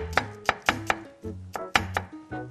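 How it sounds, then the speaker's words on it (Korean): Knife chopping vegetables into julienne strips on a cutting board for shrimp fried rice, with a quick series of sharp, close thunks in irregular bursts and no talking. "또 채 썰어주는군요."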